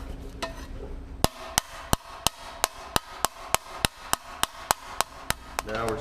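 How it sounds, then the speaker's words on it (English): Solid hammer taps on sheet metal forming a custom chopper seat pan over an edge, about fifteen sharp ringing strikes in a steady, close, evenly spaced rhythm. "give it a few pretty solid taps to get that to come out right"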